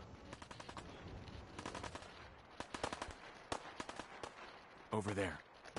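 Gunfire in the video game Fallout 4: rapid, crackling bursts of automatic shots and single reports at a moderate distance, irregular and spread across the moment, with a voice briefly audible near the end.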